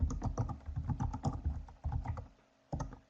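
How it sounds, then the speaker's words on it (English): Someone types an email address on a computer keyboard: quick, close bursts of key clatter, then a brief pause and a few final keystrokes. "let me type in that address"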